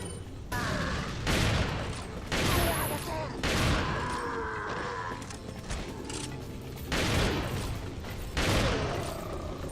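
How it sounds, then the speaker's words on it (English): Heavy magnum gunfire booms out in Resident Evil 4 on Professional difficulty, several loud separate blasts spaced a second or two apart, each with a short reverberant tail. "Gotta pummel him with a magnum."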